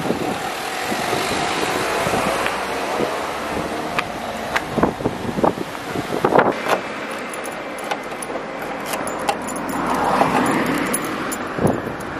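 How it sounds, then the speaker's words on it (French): Gusty wind outdoors buffets the microphone as a steady rushing roar, with scattered clicks, knocks and jangling handling noises over it. "Nina, t'as le vent dehors"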